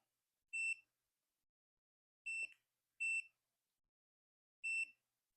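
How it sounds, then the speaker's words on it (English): Four short, high electronic beeps from a tattoo machine power supply sound at uneven intervals, clean and fairly quiet, with near silence between them. "the only thing that does is stop the beeping"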